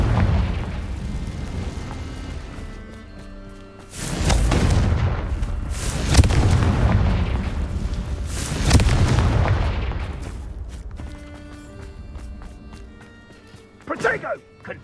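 Confringo blasting spells explode in the Hogwarts Legacy video game, a string of loud booming bursts with rumbling tails spread across the clip and a sharp crackling burst near the end, with game sounds beneath.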